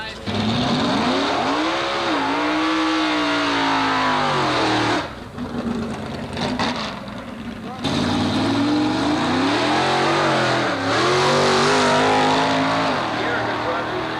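Drag racing cars, including a 1963 Chevy and a big-block 1933 Willys, roar down the strip at the Carlsbad Raceway antique drags. Loud engine howls rise and fall through gear changes, briefly dip, then surge again, with an announcer speaking over them.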